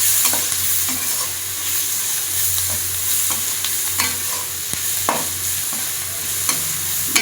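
Sliced onion and capsicum frying in a pan for chilli parotta, stirred with a steady loud sizzle and scattered sharp spatula clicks and scrapes, close up with no voices.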